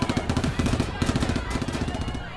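A rapid machine-gun burst fired at a car, loud and close, with dense repeated shots running continuously for a couple of seconds.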